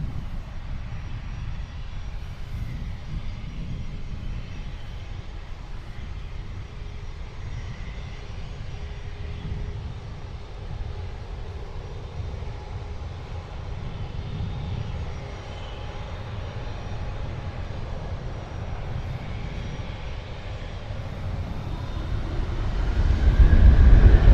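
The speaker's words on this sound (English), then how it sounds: "We have Boeing 787-8 Dreamliner Air Canada going to Los Angeles" Air Canada Boeing 787-8 Dreamliner jet at Toronto Pearson airport, a steady low broadband engine rumble heard from a distance that holds throughout and swells louder at the very end.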